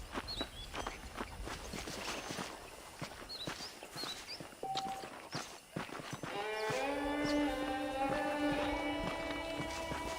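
Horse hooves clip-clopping at a steady walking rhythm in the Western video game Red Dead Redemption, close and clear, with a brief whinny and a sustained tonal game sound entering partway through; no voices.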